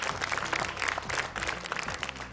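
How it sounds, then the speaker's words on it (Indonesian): A studio audience on a Qori Indonesia television contest show applauds, a brisk, even burst of many hands clapping that fills the whole stretch alone. "Boleh give applause."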